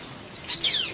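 Parrots chirp at a jungle safari in Gujarat, a short cluster of bright, high twittering calls rising over a faint outdoor hush and swelling louder midway.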